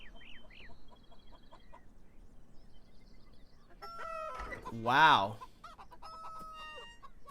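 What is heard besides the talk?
chickens clucking in video game Beyond Eyes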